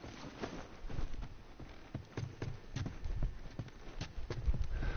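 Horse hooves clip-clop in a PlayStation video game, a soft, fairly regular run of hollow clops at moderate distance that continues throughout, with faint background sound underneath.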